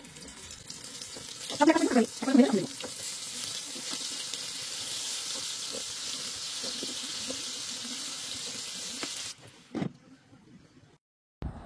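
Pieces of pointed gourd (potol) are added to hot oil and fry with a steady hissing sizzle, opening with a few louder crackling splashes, then running evenly before cutting off near the end.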